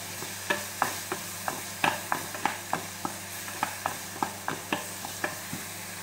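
Ambarella curry being stirred in a pan, with a spoon tapping the pan in a steady, regular rhythm about three times a second over a low, constant sizzle, close up and without speech.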